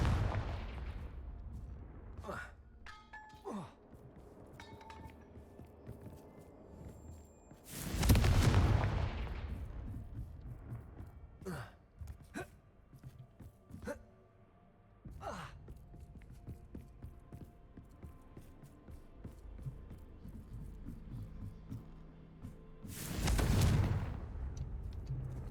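Confringo explosive spell in Hogwarts Legacy, two loud booming blasts well apart, with fainter sharp cracks and impacts scattered between them over quiet background.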